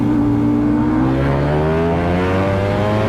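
A motorcycle accelerates hard in a roll race, its loud engine note climbing steadily and continuously close by, with no talk over it.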